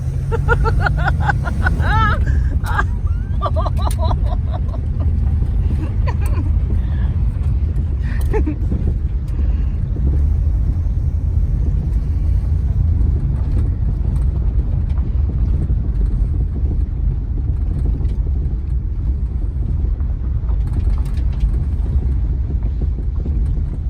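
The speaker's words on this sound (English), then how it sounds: "Let's see what this little Hemi's got in it." A 1956 Chrysler New Yorker four-door with a Hemi engine cruises along, its steady low engine rumble mixed with heavy wind and road noise throughout, with a few brief clicks early on.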